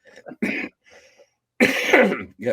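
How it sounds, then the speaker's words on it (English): Several short, harsh coughs in bursts close to the microphone, with brief pauses between them and a longer, louder coughing fit toward the end. "whenever I laugh I cough"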